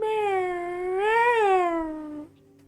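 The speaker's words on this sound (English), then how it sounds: "meow. I haven't heard you sing like that, Toasty." A pet cat gives one long, drawn-out meow that rises in pitch partway through and then falls away, loud and close by, with no talking over it.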